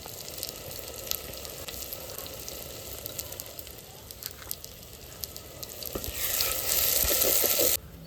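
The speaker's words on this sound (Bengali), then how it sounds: "পেঁয়াজটা ভালো করে ভেজে নেব।" Chopped onions frying in oil in a pan for a Bengali duck curry, giving a steady close sizzle that grows louder and brighter near the end.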